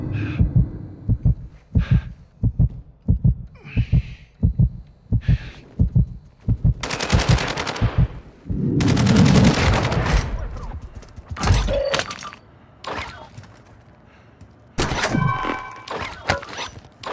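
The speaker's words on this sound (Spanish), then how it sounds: "¡Me disparan!" Gunfire in Call of Duty DMZ: a run of evenly spaced heavy thumping shots, then denser bursts and crackling rapid fire, loud and close, with brief pauses and a voice speaking in the mix.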